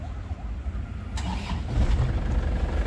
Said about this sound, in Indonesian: yuk kita nyalakan mesinnya